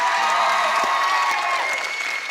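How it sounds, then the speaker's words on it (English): Loud, dense audience applause after a dance performance, a continuous roar of clapping and crowd noise throughout the short stretch. "Another round of applause for him, guys"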